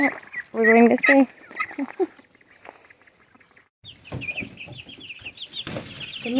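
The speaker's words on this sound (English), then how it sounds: "The meat chickens are doing really well." Meat chickens cluck and squawk close by in short, uneven bursts, with a louder run of excited calls early on and scattered softer clucking and chirps later, alongside some talking.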